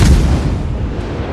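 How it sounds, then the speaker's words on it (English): Heavy naval cannon fire from warships in World of Warships, a single deep booming blast that rolls out into a low rumbling tail, loud and close with no talk over it. "My guns are just reloading every 5 seconds, and I get 6 shots every time I fire."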